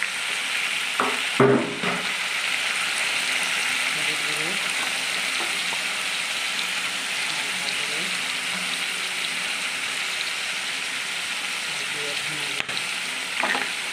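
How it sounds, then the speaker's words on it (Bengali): A ginger, garlic and tomato paste fries in oil with potatoes and pointed gourd for a prawn curry, producing a loud, continuous close sizzle with a couple of brief stirring clatters. "এবার এখানে বেটে রাখা আদা রসুন টমেটোর পেস্টটা দিয়ে দিলাম।"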